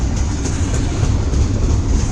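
A large CSX westbound freight train passes nearby in Fostoria, Ohio, a loud steady rumble of heavy rail cars with faint clickety-clack over the rails, continuous and close, no voices.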